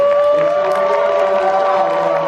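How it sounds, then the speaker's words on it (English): An audience at the Scarefest horror convention in Lexington, Kentucky, stands, cheers and screams, with a sustained raised voice riding over a continuous crowd roar for the whole moment. "thank them by standing and applauding and screaming"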